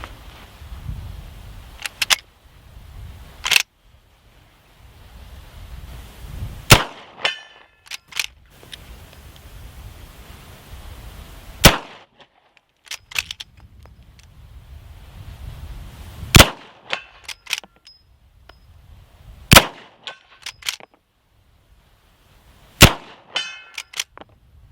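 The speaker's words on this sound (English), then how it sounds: "Now we're going to shoot the Cimarron 1860 Henry Civilian in 4440 at 102 yards." A Cimarron 1860 Henry Civilian lever-action rifle chambered in .44-40 fires offhand shots outdoors at about 100 yards, a string of sharp, loud reports with short pauses between them as the action is cycled.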